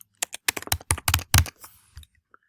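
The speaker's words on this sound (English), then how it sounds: "And I'll be typing in my name." Name being typed on a computer keyboard: about a dozen quick, close key taps in uneven bursts, then a brief pause and a couple of softer final keystrokes, with no talking.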